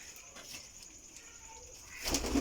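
Pigeons in a loft make soft cooing and a burst of fluttering near the end, over a steady rustling background.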